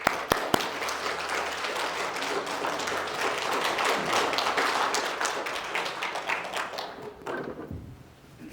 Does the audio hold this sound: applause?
yes